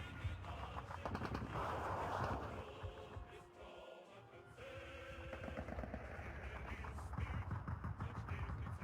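Machine gun fire rattles steadily through a battle in the WWII strategy game Steel Division 2, Romanian and German forces near Iasi, with dense bursts layered over distant artillery rumble and no voices.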